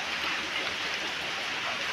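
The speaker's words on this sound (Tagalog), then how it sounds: "Ngayon naulan na naman." Steady rain falls outdoors on a rural property, a constant dense hiss with no breaks, moderately loud and close, with no voices over it.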